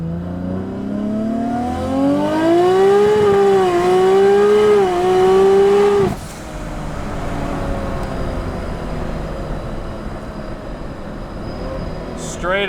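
A Nissan Skyline GT-R with an automatic transmission accelerates at full throttle, its engine pitch climbing loud and close through quick shifts before a sudden cut to a lower steady road roar.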